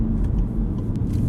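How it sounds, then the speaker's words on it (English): A VW Golf R Mk7 with DSG gearbox in race mode, a steady low engine and exhaust drone heard from inside the moving car, loud and continuous with no talking. "The whole car changes in race mode, not just the exhaust note, which gets all poppy and bangy"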